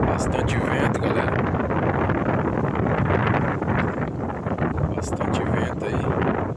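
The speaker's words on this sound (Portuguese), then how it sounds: "Bastante vento aí." Strong wind buffets the microphone on a fishing boat, a loud continuous roar with gusty bursts throughout, and no clear speech over it.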